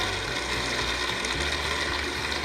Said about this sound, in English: This is rain.